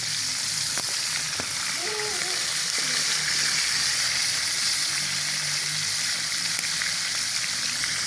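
A constant hissing sizzle of scorpionfish frying in a black pan, with a faint voice and a few soft clinks in the background.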